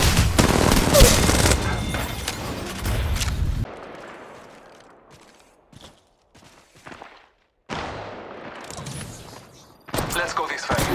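Dense, loud gunfire from Apex Legends Mobile: a sustained burst of rapid shots, then quieter reverberant stretches before more bursts return, with in-game voice callouts mixed in.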